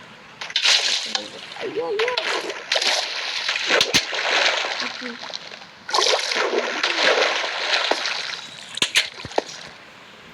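Game water in Minecraft splashes and sloshes in repeated bright bursts, some longer and some short, while a person talks with an occasional exclamation.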